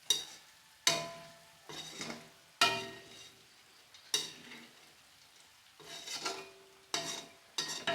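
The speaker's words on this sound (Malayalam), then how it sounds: "കായപ്പൊടി നല്ല രീതിയിൽ മിക്സ് ചെയ്തെടുക്കുക" Asafoetida powder being stirred into anchovy fish pickle: repeated spoon strokes against the pot at an uneven pace, each with a brief hissing swish, close and fairly quiet, no voices.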